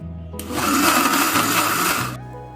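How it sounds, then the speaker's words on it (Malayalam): A kitchen blender whirs steadily for about two seconds, churning boiled and cooled milk for matka kulfi, starting and stopping abruptly over a low background hum. "ഇനി ഇതൊന്ന് ബ്ലെൻഡ് ചെയ്തെടുക്കാം."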